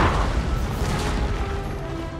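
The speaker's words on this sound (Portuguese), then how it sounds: "Ah, os canhões são muito bons," Cannon fire in a Napoleon: Total War battle in the Egyptian campaign against the Mamelukes, a loud deep boom that rolls off into rumbling battlefield ambience, with no voices.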